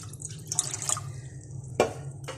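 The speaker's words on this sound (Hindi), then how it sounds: "कश्मीरी चाय बनाने के लिए मैं 1 लीटर पानी पैन के अंदर शामिल करूंगी।" Water running into a pan on a home stove as Kashmiri pink chai is started, a close splashing trickle with a few brighter drips and a louder splash near the end, no voices.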